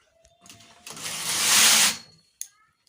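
A knitting machine carriage is pushed across one row, a rising whirring, clattering slide lasting about a second, then a short click, fairly close and alone.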